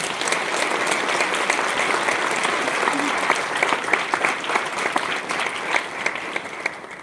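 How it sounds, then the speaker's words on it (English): Steady applause from a convocation audience honoring staff and faculty, a dense sustained patter of many hands filling the hall for the full stretch, with faint crowd murmur beneath. "So if everyone could give the staff and faculty a round of applause,"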